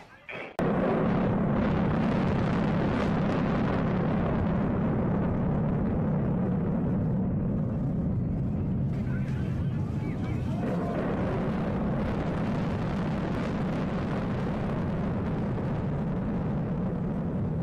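Explosive demolition of the Noida twin tower high-rises: a sharp burst gives way to a long, heavy rumbling roar of collapse that carries on steadily for many seconds.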